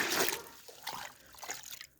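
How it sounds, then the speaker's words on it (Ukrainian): Water is poured from a full bucket onto rotted manure in a bucket, giving a splashing, gurgling pour that trickles off near the end, with no talk. "І заливаю водою цей навоз."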